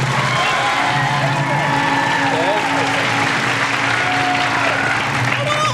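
Studio audience at the Technopoly game show applauds to vote for a contestant, a steady broadband wash of clapping filling the clip, with a voice speaking briefly over it.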